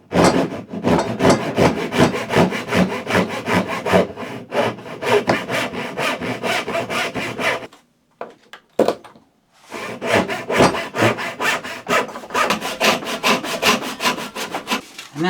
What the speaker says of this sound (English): Now we have our kerf